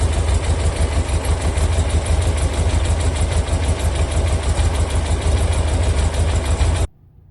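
A 1969 Porsche 912 engine idles steadily and loudly close by, a continuous even running note that cuts off abruptly near the end, with no talk.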